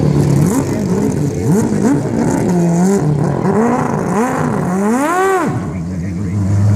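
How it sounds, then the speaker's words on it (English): A 1998 Porsche GT1 race car, sister to that year's Le Mans winner, revs its engine hard and close in repeated rising blips, the last climbing highest before falling back to a rough idle. "This is the Porsche GT1 1998 car, sister car to the one that won Le Mans in 1998"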